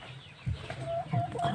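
Rhode Island Red chickens beside their eggs give soft, low clucks and a few short higher-pitched calls, close by and fairly quiet.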